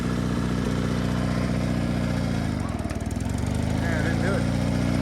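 A Sears GT18 garden tractor engine runs steadily close by with the idle turned up, a loud continuous mid-pitched drone with a brief dip and surge partway through.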